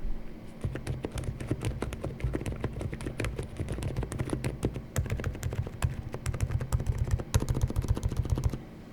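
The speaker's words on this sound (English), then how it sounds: "I'll give you just a really brief demonstration on what these actually do sound like." Rapid, steady typing on a MCHOSE x Unbox Therapy UT98 mechanical keyboard with silent switches, soft muted keystrokes in a quick patter, close up and continuous with no talking.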